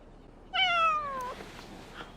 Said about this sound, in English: cats meowing is totally not normal behaviour